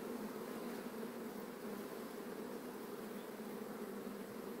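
Honey bees buzzing at an opened hive full of brood, a dense, steady, soft hum that continues alone throughout.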